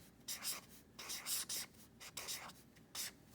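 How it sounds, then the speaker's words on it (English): Pencil or pen writing on paper in short scratchy bursts, several strokes with brief pauses between them, close and fairly quiet, with no talk over it. "So go ahead and write"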